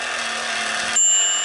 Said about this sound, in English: Do you hear the bell?